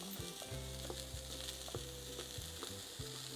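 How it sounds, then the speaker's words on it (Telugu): About 50 grams of spinach frying in a pan, a soft hiss beneath intermittent low, tonal hum-like notes, quiet and close, with no talking. "సో అది వేసేసి బాగా ఫ్రై చేసుకుంటాను."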